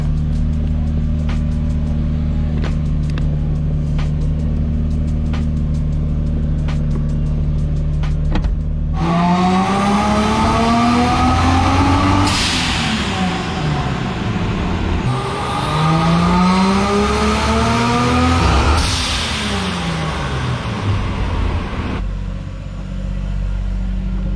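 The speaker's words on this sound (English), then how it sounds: "We're gonna go for a test drive real quick." Lexus GS300 fitted with a Tomei MX8280 turbo on a 1JZ engine, idling steadily before revving hard on a test drive, the engine note rising and falling through repeated loud pulls.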